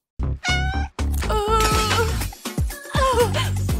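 A stray cat meows loudly and up close several times, with drawn-out, wavering cries and short breaks between them.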